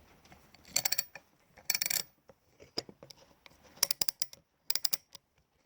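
A vintage Snap-on military tool clatters onto a hard surface, a few sharp metallic clanks and rattles in separate bursts with quieter small knocks between, close and clear with no talking.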